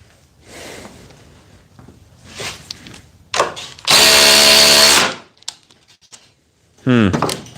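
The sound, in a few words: Dewalt oscillating multi tool cutting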